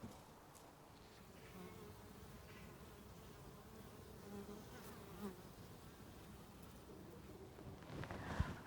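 Honey bees hum in a dense, continuous drone at the hive, moderately close, with faint wind buffeting the microphone and a few soft knocks near the end.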